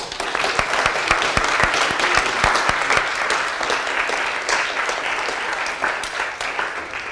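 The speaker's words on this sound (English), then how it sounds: "let's give them a round of applause." After a debate on machine learning techniques, the audience gives the participants a round of applause: a few sharp nearby claps at first, then full, steady crowd clapping that slowly eases.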